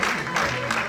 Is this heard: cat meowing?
no